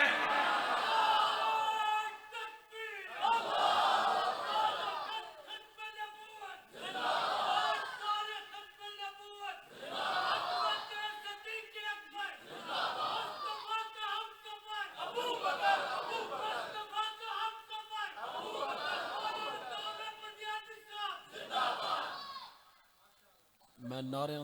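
A crowd at a religious speech chants slogans in repeated loud, rhythmic bursts of many voices, with short pauses between each shout.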